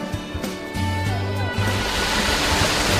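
Gentle sea waves wash onto the silver sand of Sangju beach in Namhae, a steady broad surf hiss that rises and fills the second half after some tonal voice or music at the start.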